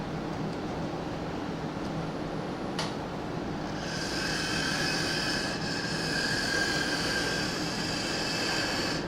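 Steady rumbling of a freight train moving along rails while picking up railroad cars in a rail yard, with a faint high metallic squeal of wheels rising midway and a brief sharp clank.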